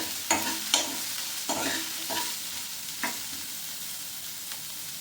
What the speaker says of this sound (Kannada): ಇದೆಲ್ಲ ಸ್ವಲ್ಪ ಹಸಿ ವಾಸನೆ ಹೋಗೋವರೆಗೂ ಹುರ್ಕೋಬೇಕಾಗುತ್ತೆ.